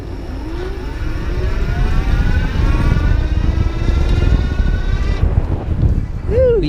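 Pedego Miniceptor 24-inch step-thru electric bike with a 48-volt battery pulling away from a standstill on throttle: a rising motor whine climbs in pitch over steady wind and road rumble, close and continuous, ending with a short sweeping tone.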